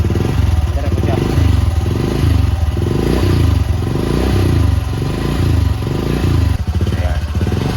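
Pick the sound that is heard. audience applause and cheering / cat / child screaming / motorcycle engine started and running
motorcycle engine started and running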